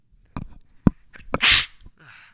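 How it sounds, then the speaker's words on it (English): A single sharp human sneeze bursts out loudly and close, framed by a few short breathy sounds and quiet noises in an otherwise still room. "Sneeze a little bit."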